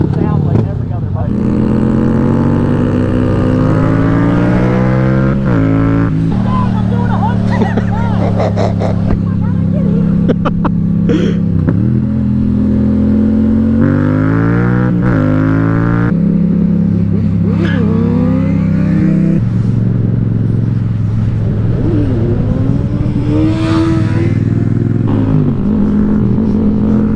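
Suzuki GSX-S 750 and Yamaha FZ-07 motorcycles accelerating through the gears, engine pitch climbing and dropping with each shift in steady loud revving, with a rider's voice talking over it at times.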